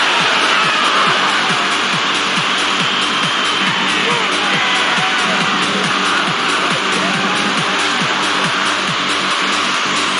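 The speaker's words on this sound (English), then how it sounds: "Quite a noise coming from the crowd here." A dense, steady roar of a large football stadium crowd in the video game FIFA 2002 fills the whole stretch, loud and continuous without clear pauses.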